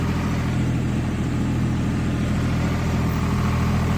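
A new 855 tractor's engine runs steadily in first high gear, a continuous deep diesel drone with a strong low hum, close and loud without pauses or talk.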